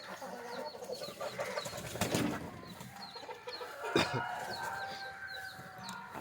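Chickens clucking around an opened coop, with scattered short clucks and bird calls at moderate distance, a few louder bursts, and no talk.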